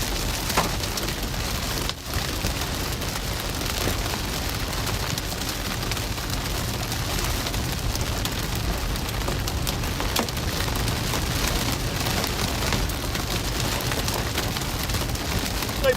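Hail pelts a car during a Nebraska supercell storm, a dense, continuous patter of hard impacts with occasional sharper knocks from larger stones, loud and close with no talk.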